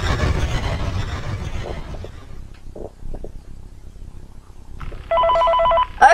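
A telephone ringing in the game FNAM2: one short electronic trilling ring near the end, clear and fairly loud over quiet low rumbling and scattered soft knocks.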